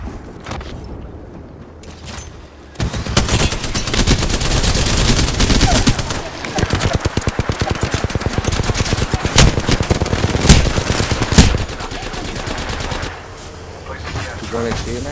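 Automatic gunfire in Apex Legends, rapid sustained bursts of shots with explosions, loud and close for several seconds before easing off, with players talking faintly under and around it.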